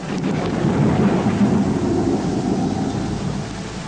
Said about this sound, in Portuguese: Nem mesmo a tempestade que se aproximava.